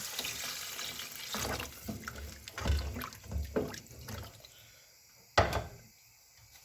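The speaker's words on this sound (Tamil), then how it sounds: "இப்போ கரெக்டாக அவிடுறதுக்கு வந்து நாங்கள் அதுக்கு தேவையான அளவு தண்ணி சேர்த்துக்கொள்வோம்" Water poured into a pot of cut carrots for vegetable soup, splashing and gurgling in uneven bursts at close range, with a sharper splash near the end.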